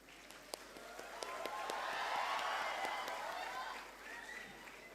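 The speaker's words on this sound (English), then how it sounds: "and a big round of applause." Audience applause for graduates at the 8th convocation of NIT Andhra Pradesh, a broad wash of clapping from a large hall crowd that swells in the middle and eases toward the end, moderately distant.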